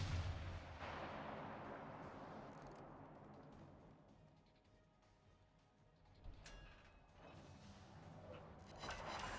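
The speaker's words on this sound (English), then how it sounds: "I think the next salvo gives us a fire here." Warship main-battery salvos in World of Warships Legends, a North Carolina battleship among the targets: a steady roar of distant gunfire and rumbling impacts, with a sharper burst near the middle and another swell toward the end, no voices.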